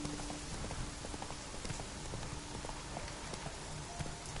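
Roach, Geralt's horse in The Witcher 3, gallops with a steady, continuous clip-clop of hooves, moderately close and fairly quiet, over a soft rain-like wash of ambient noise.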